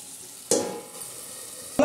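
Bitter gourd fried on a flat pan with red chilli powder, soft sizzling under two sharp stirring scrapes, one near the start and one at the end, with no talk.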